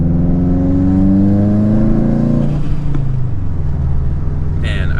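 The engine of a modified Subaru WRX STI revs loudly from inside the cabin, rising then falling in pitch over a few seconds. A steady low drone continues throughout, and a brief high whine comes near the end.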